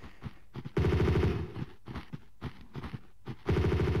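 Machine gun fire from enemies in Tomb Raider II on PS1, in the Maria Doria shipwreck level: two loud rapid bursts, one near the start and one at the end, with quieter clatter and scattered shots between.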